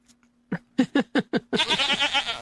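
Goats bleat several times in short, nasal bursts, then one long wavering bleat, close and loud over a faint steady hum.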